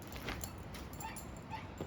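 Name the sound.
puppy whimpering while avoiding the leash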